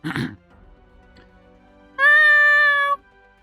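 A person imitates a cat's meow with a single drawn-out, clear, harmonic mew lasting about a second, close and loud, after a brief voice sound and quiet rustle.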